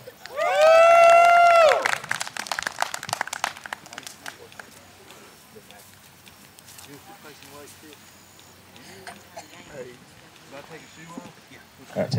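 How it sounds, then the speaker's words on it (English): At a wedding reception, guests clap and cheer for a woman named Kendra as she is called to the stage; a loud whoop opens it, then scattered claps and crowd noise fade under chatter. "Let me get some hand claps for Kendra."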